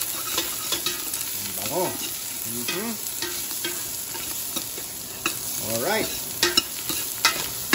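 Native chicken, quail eggs and chicken liver are sautéed in a hot pan with aromatics, giving a steady sizzle broken by scraping stirs and utensil clinks, while a voice speaks a couple of short words.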